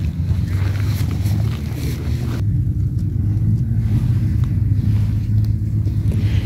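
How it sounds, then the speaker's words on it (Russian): Strong, cold wind buffets the microphone outdoors with a heavy, continuous low rumble that gusts and shifts over time. "На улице ветрище, холодный."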